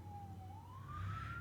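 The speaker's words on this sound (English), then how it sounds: "And I apologize for the sirens." A wailing siren sweeps steadily upward in pitch over a low engine rumble, fairly loud and continuous.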